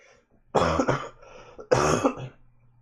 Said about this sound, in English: There's that coughing I mentioned.